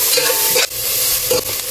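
Garlic, onion and ginger sauté in hot virgin coconut oil in a pan for a spicy beef bile stew, a loud steady sizzle broken by two brief scrapes of a stirring spoon, close up and without voices.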